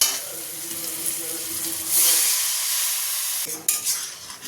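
Water is poured into a fried spice paste in a pan, setting off a loud, hissing sizzle that swells, gradually settles, then flares again briefly near the end, with no talking.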